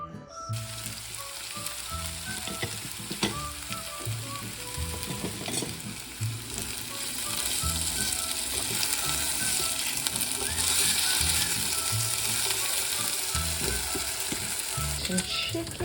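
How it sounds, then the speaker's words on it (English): Potatoes fry in a pan with a steady, close sizzle that grows louder partway through, broken by occasional scraping and stirring sounds. "Frying some potatoes."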